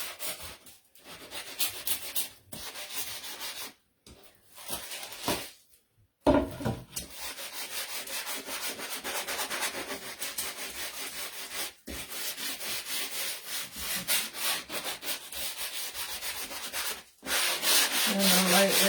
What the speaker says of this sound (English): And I'm lightly trying to sand over this as well.